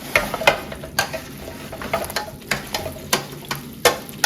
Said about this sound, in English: we've got our fats melted down, and now we will go ahead and put in our Brussels sprouts